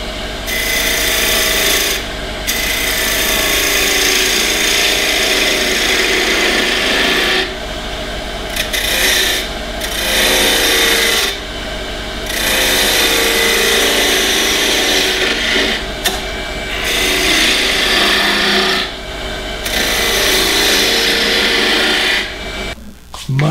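A wood lathe turns an off-center goblet while a tool cuts into the spinning wood. The rough, loud rasping scrape comes in long bursts, broken by brief pauses as the cutting tool lifts away.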